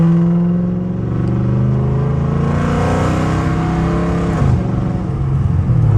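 A Dodge Charger SRT accelerating at night on the way to the highway, its loud engine rising steadily in pitch through the gears, then a brief drop and a renewed pull, heard from inside the car without talk.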